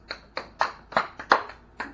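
Seven separate hand claps at a slow, slightly uneven pace, close and crisp, with no voices around them.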